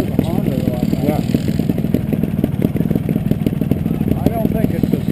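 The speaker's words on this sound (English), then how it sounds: "Is that a CRF 250 motor that it's based on or something?" Honda trials motorcycle engine running steadily with rapid pulsing beats and a light mechanical clatter, close and loud throughout, with a voice or two talking over it.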